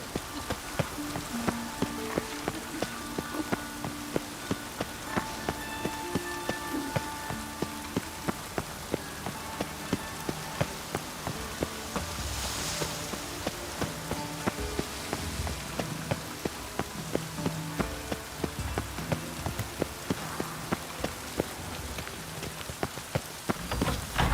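Steady rain falls on surfaces in The Witcher 3: Wild Hunt game, a dense continuous patter of drops with scattered sharper impacts, even and moderately loud throughout with no voices.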